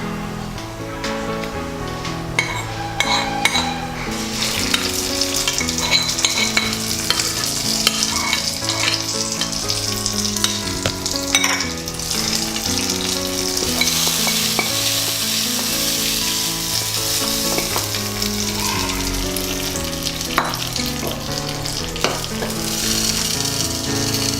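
Hot tempering hisses and sizzles as it goes into a bottle gourd dal curry, a loud continuous frying sound with stirring, heard over tonal background music.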